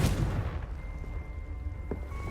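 A Confringo blasting spell explodes in the Hogwarts Legacy video game: one loud, close boom hits at once and fades into a rumbling decay with a faint lingering tone.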